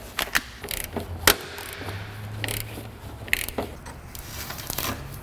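A hand ratchet clicks in short irregular bursts while working a crusty, stuck bolt loose in a car repair shop, close and fairly quiet, with a few knocks and scrapes and no talk.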